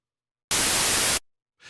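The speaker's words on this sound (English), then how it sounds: "Well, that's white noise, all right." Ableton Operator synth producing plain white noise in a single loud, steady hiss of under a second that cuts off cleanly. A faint softer wash of noise follows.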